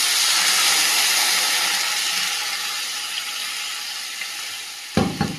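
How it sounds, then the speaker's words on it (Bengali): Spice paste fries in hot oil in a pan for a fish curry, giving a loud, steady close-up sizzle and hiss that fades slightly before a few sharp stirring clatters near the end. "মশলাটা খুব সুন্দর করে ভেজে নিয়েছি, মশলা থেকে তেলটা ছেড়ে দিয়েছি।"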